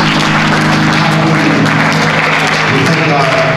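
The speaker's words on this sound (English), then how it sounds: "Come on, give God another hand clap of praise." Baptist church congregation clapping in praise during a Sunday service, loud and continuous clapping layered over sustained organ or keyboard tones and voices.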